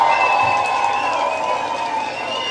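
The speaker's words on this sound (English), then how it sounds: "let's give Val a huge round of applause" Crowd cheering and clapping for a performer at a Fourth of July show, a loud, dense burst of applause with whoops that gradually tapers over a couple of seconds.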